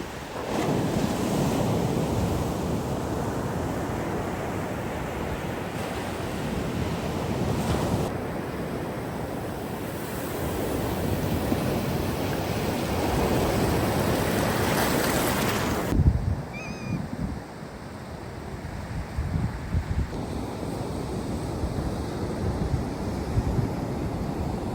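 Ocean surf rolls steadily onto a Florida beach, a continuous loud wash of breaking waves mixed with buffeting wind noise against the microphone, with no voices.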